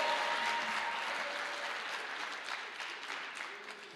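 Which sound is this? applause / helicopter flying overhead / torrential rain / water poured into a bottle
applause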